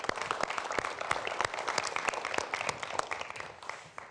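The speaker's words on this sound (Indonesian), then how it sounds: "Boleh berikan tepuk tangan untuk menyamakan semangat kita" An audience at a pre-dawn Ramadan talk show claps, with sharp individual hand claps standing out over a busy patter that tapers toward the end.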